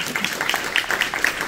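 Audience applauding at an ecological transition awards ceremony, a brief, dense patter of many hands clapping, steady and moderately loud from start to end.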